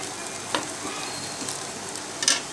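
Boiled chickpeas go into a pan of sizzling spices for Lahori chikar cholay, giving a steady close frying hiss with a couple of brief clattering stirs and no talking.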